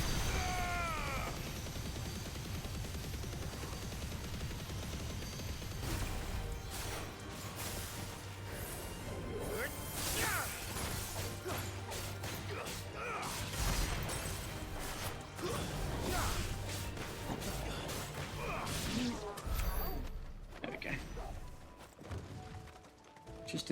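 The Giga Flare spell from a video game goes off as a dense burst of whooshes, crashes and rumbling impacts that builds, stays busy for many seconds, then fades out at the end.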